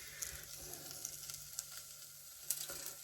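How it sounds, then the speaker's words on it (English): Panch phoron and chilli seeds sizzle in a pan, a soft, close crackle with small pops scattered throughout and a few sharper spits standing out. "So the punch forum and the chilli seeds have been cooking now for a few minutes."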